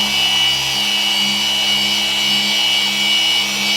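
A power buffer with a finishing microfiber pad hums steadily and close as it polishes the fiberglass hull of a 1995 Sea-Doo XP800 with finishing compound and wax, a continuous whirring drone with no talk.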